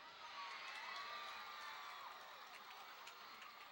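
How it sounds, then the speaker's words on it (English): Crowd cheering in the stands at a high school football game, PHN versus PHHS: a steady, distant roar of many voices with scattered shouts and whistles, running unbroken from start to finish. "Crowd all of a sudden magically cheering,"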